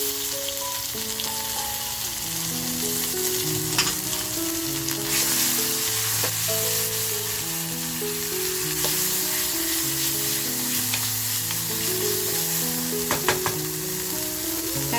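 Crushed chili-garlic thecha hits a hot pan for a mutton curry, giving a steady, close frying sizzle with occasional stirring scrapes under a continuous melodic music backing.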